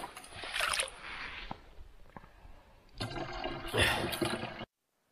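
Water being drawn outdoors beside a cabin hut in Lapland, a splashing, rushing pour in two bursts with a quieter gurgling gap between, close to the microphone and free of talk.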